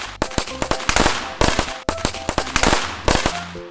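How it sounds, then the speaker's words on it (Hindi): Firecracker vehicles go off at night in a village celebration, a dense, loud run of sharp cracks and pops firing in rapid irregular bursts over a continuous crackling hiss. "उस रात सारे बच्चे पटाखा व्हीकल्स को जलाते"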